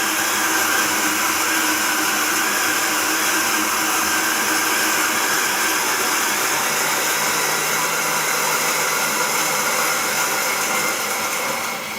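Freshly home-roasted coffee beans are ground in an electric coffee grinder, a loud, steady, close whirring motor hum that runs continuously without pause.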